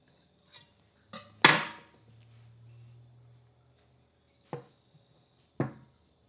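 A knife cuts into a block of handmade soap, a few sharp contact taps followed by one louder slicing chop with a low hum after, then two more short cuts, sparse and close with little talk.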